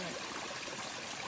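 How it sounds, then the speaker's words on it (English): Big Lost Creek flows with a steady, even rush of water, close by and continuous, without voices. "We're on the Big Lost Creek."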